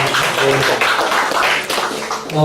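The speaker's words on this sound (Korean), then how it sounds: "박수 해주시기 바랍니다." Congregation in a Korean church in Seongnam applauding, a dense, steady wash of many hands clapping at close range for a couple of seconds, with faint voices mixed in.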